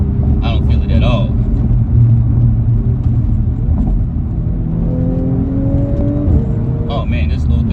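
Car with an 034 Motorsport tune and transmission mount insert accelerating hard, a steady loud engine rumble rising in pitch through the gears, with a person talking over it.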